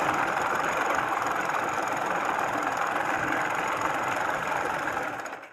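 A sewing machine stitching a pajama hem, giving a continuous, even mechanical whir at close range that runs unbroken and fades out at the very end.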